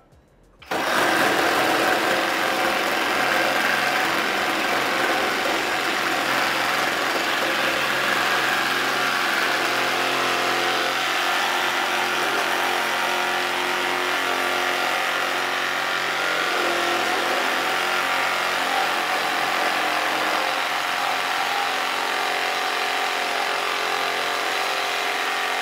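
A Festool RSC 18 cordless saw cuts wood with its orbital action switched off, starting abruptly and then running as a loud, steady, buzzing whine that holds unbroken for about twenty-five seconds with no talk.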